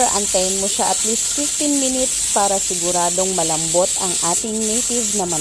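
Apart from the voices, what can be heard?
pressure cooker hissing while cooking native chicken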